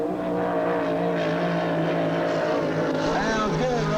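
A hydroplane race boat, the Honey Hush, runs with a loud, sustained engine roar during a race, a commentator's voice talking over it.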